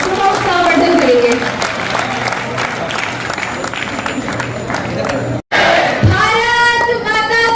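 A hall crowd claps loudly for medal recipients at a student organisation's talent award ceremony, sustained applause with voices over it, a brief cutout near the end, then a voice rising above the clapping.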